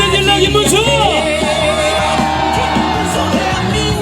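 A crowd at a Korean presidential campaign rally in a park in Paju cheers loudly with whoops and shouts, a dense, sustained roar of voices and yelling over amplified music.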